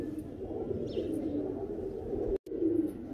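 Pakistani pigeons in Iraq cooing in low, throaty repeated murmurs close by, a continuous soft burbling with a brief dropout near the end and faint chirps above.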